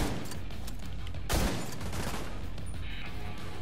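A sniper rifle firing in the video game Division 2: a single sharp, loud shot bursts out of a busy, constant background of game noise, with no voices.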